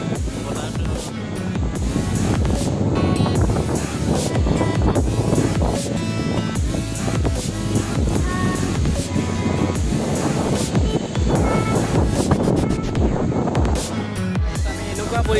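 Strong wind gusts roar steadily outdoors ahead of rain at a home cooking spicy pork dry fry, a dense continuous rush with buffeting against the microphone throughout and no clear speech.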